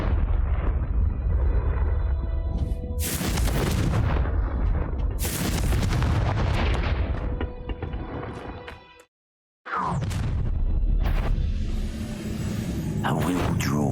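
Confringo blasting spell explosions in the Hogwarts Legacy video game, loud booming blasts and crackling bursts in quick succession, a brief silent gap, then more heavy blasts.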